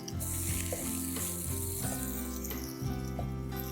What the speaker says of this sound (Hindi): तो सब्जियों को हम भूनते हैं 30 सेकंड के लिए।